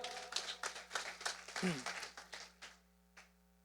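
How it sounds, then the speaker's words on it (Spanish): A church class congregation claps for the Lord in a dense burst of applause that thins and fades out to quiet, with a voice calling out briefly in the middle. "Denle un fuerte aplauso al Señor"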